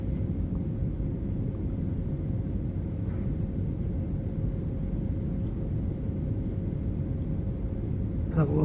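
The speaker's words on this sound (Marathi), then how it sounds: "आपण आता हळूहळू खालच्या दिशेने येत आहोत आणि थोड्याच वेळात आपलं विमान हैदराबाद एअरपोर्टवर लँड होणार आहे" Inside an airliner cabin descending toward Hyderabad airport, a steady low roar of engines and airflow persists throughout, with faint clinks near the end.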